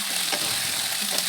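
Boiled potatoes frying with spices in a pan, sizzling steadily while a utensil stirs and scrapes with a few brief clinks, close and fairly loud with no talk.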